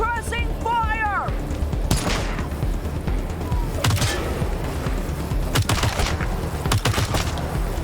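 Bursts of suppressing gunfire in the video game Wasteland 3, sharp repeated shots in scattered volleys over a rooftop firefight, loud and close, mixed with game sounds and voices.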